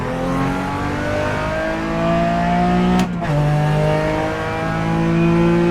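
A RUF Porsche AWD race car engine in iRacing drones loudly and steadily at high revs, with a brief gear-shift dip partway through before the revving tone resumes close and continuous.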